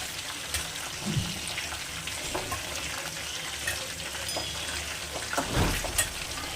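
Chicken legs deep frying in hot oil give a steady, crackling sizzle throughout, with a few louder bubbling pops and soft clinks from turning the pieces.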